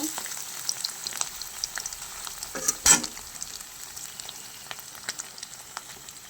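Paneer cubes frying in oil, being turned over to brown on both sides: a soft, fairly quiet sizzle with scattered small pops and one sharper clatter near the middle, no talking.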